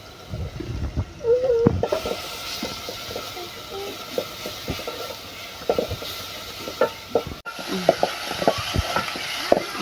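Onion and garlic frying in a little oil for a Sylheti village-style taro stem lentil dish with prawns, a steady low sizzle broken by scraping stir strokes, with a few quiet spoken words.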